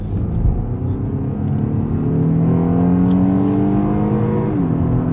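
A 2019 Acura TLX A-Spec sedan pulls away from an intersection under hard acceleration in sport plus mode, its engine note climbing steadily in pitch as it revs, heard from inside the cabin, loud and continuous with no talk.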